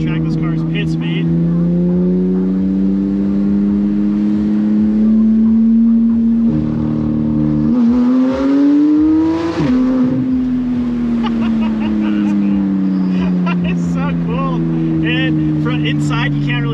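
A Porsche GT3 RS engine drones loudly and steadily, its pitch rising and dipping as it revs, with voices talking over it.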